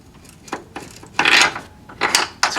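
Chrysler PT Cruiser motor mount sliding back into place during replacement, heard as several short scraping, rubbing bursts of metal with brief knocks, close and fairly loud with quiet gaps between.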